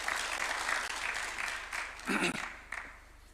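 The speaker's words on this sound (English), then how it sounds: "A clap for him, please." An audience applauds to welcome a Cabinet Secretary at a Kenyan official event, a steady wash of clapping with a short louder swell near the end, heard without spoken words.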